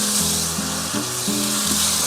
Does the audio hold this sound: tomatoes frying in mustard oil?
yes